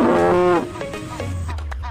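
A water buffalo gives one loud, low, drawn-out moo that fades after about half a second, followed by quieter rumbling and background noise.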